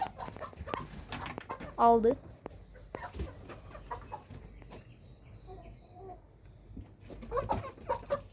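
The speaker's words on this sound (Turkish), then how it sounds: "İzzet tavuk seçiyor şimdi dedesine" Chickens clucking close by around a person choosing a hen to sell to his grandfather, with a louder burst near two seconds; people talk over the intermittent clucks throughout.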